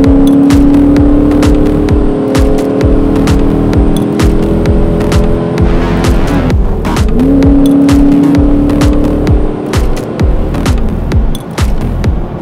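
A Dodge Challenger is heard from inside while driving, its engine a loud, steady throbbing drone that rises and falls as it shifts through gears, with clicking ticks throughout.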